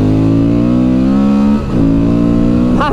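A Honda Transalp XL 750 motorcycle engine with its stock exhaust revs hard and loud, holding a steady high pitch, dipping briefly, then climbing again with no talk over it.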